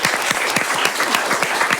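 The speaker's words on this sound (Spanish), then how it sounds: "Un aplauso para ella" Applause greeting a guest on a podcast recording, a short burst of brisk, fairly close clapping from a small group.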